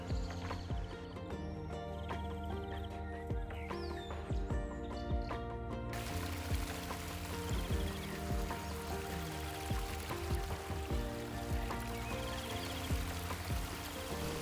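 Bobo Creek rushes steadily beneath a wooden bridge on a wooded trail, a continuous close wash of flowing water with occasional clunks like footsteps on the boards.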